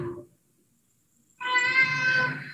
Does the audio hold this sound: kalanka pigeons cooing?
no